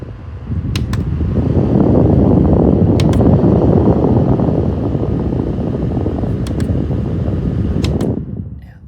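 An Amailtom portable neck air conditioner fan runs on its low setting with a steady broadband whoosh held close, joined by a few faint clicks, before it cuts off near the end.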